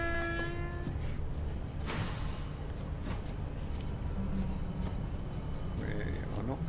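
A train in a railway simulator game slows under full brakes, with a steady mechanical rumble, brief horn-like tones and hissing bursts, all continuous at moderate loudness.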